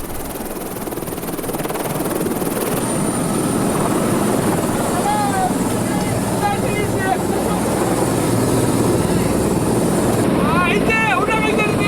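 A helicopter in flight over the Great Ocean Road coastline, its loud, steady rotor and engine roar filling the cabin continuously, with faint radio chirps and voices underneath.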